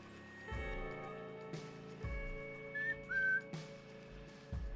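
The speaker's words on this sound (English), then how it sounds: "I keep whistling. I really shouldn't whistle on video because it does not sound good." A person whistles a short tune of a few rising notes over steady, game-like background music, with no talking.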